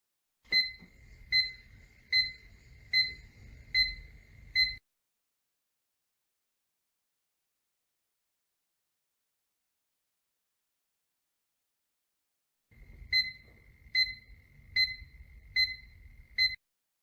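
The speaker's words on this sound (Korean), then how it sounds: "50cm 이하로 가까워지면 부저도 함께 울립니다." Two bursts of rapid, evenly spaced electronic beeps, about six each, separated by a long silence, from a wireless distance-sensor control box buzzer warning of an obstacle within 50 cm; the tone is clear and fairly close.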